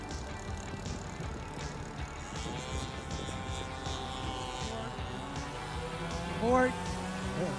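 A Fokker Triplane model aircraft's engine drones steadily as it comes in to land, a continuous buzzing hum with shifting pitch, fairly distant under wind and background noise, with a brief louder whine near the end.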